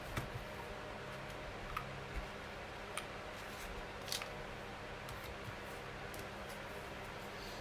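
Scissors snip out paper shapes at a card-making table, giving faint, sparse clicks and snips spread over several seconds against a low background hum.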